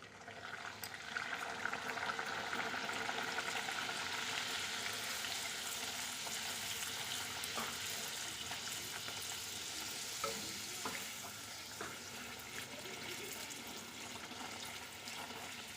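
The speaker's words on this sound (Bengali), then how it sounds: "এইভাবেই সবকটা ভেজে নেব আর একটা দিয়ে দিচ্ছি" Spinach kachori deep-frying in hot oil, a steady close bubbling sizzle with occasional sharp crackles and faint utensil clinks, no voices.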